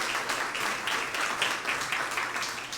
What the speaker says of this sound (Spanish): Dale ese aplauso bien fuerte que es para el Señor